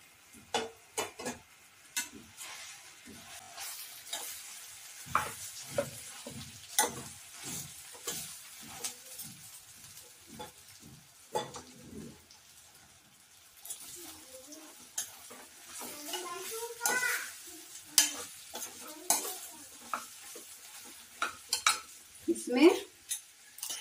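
Jackfruit stirred and fried in spiced oil, with soft sizzling under repeated scraping and clinking of a spoon against the pan, heard up close and fairly quiet.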